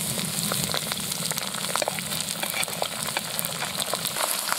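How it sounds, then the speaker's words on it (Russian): Chopped onion sizzles loudly in rendered pork fat for bograch goulash, a dense, continuous frying hiss with crackling pops and occasional stirring, close and steady with no talk. "Огонь убавили, а то что-то прям быстро все жарит"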